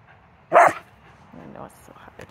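A dog barks in frustration while waiting for food during leave-it training: one loud, sharp bark up close, then quieter whining and rustling noises.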